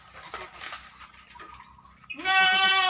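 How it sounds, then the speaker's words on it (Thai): Goats in a goat pen bleat loudly and close at the end, a clear wavering cry that rises out of quieter mixed farmyard noise and scattered animal calls. "กับแพะน้อย ตัวน้อยน่ารักน่ารักนะครับมาให้ชมกัน"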